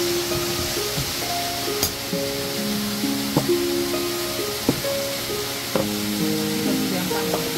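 A waterfall beside a secluded mountain inn in Lugu, Nantou, Taiwan, where hotpot is served, gives a steady, even rushing hiss throughout, overlaid with faint tonal sounds and a few sharp clicks.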